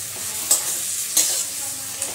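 A spice paste with chili powder and coriander powder sautés in a pan, giving a low steady sizzle broken by two sharp scraping strokes of a spoon and a lighter one at the end.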